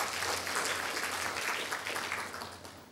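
A church congregation applauds together, a dense steady wash of clapping that fills the room and holds for the whole stretch, fading slightly at the end.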